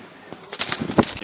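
Brief bursts of wild Jalali pigeons' wings flapping and scuffling close by, a few quick flutters within a second or so.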